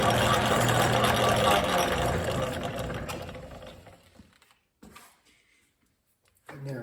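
An antique South Bend lathe runs with its back gears engaged, giving a close, steady mechanical whir with rhythmic gear clatter that winds down and stops, followed by near silence with a few faint clicks.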